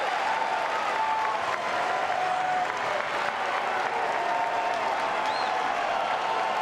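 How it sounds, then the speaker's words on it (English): Baseball crowd at an NCAA regional game between Florida State and Mississippi State roars and cheers after a stolen base, a steady, dense wash of applause and voices from a large stadium crowd that holds loud throughout. "Crowd becoming a factor. And they're coming alive."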